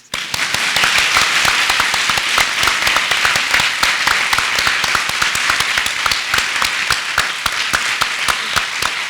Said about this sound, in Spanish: quiero pedir un aplauso al trabajo y a la labor de la doctora Heréndira Álvarez Pérez